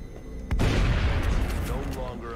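A sharp shot cracks in the XCOM video game, followed by a rumbling barrage of gunfire and booms that lingers loud and close for about two seconds.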